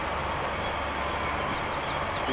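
A train in Train Simulator 2021 rolls along the North London Line, a steady dense rumble of engine and wheels on track that stays even and close for the short stretch.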